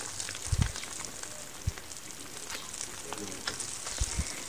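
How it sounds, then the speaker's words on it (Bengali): Garlic cloves and whole green chilies sizzle with dried fish in a pan, a faint steady crackle of frying with a few soft low thumps, no voices. "আমি এখন দিয়ে দিচ্ছি ছোট্ট ছোট্ট রসুনের কোয়া 8-10টার মতো। দিয়ে দিচ্ছি এখানে 4-5টা আস্ত কাঁচামরিচ"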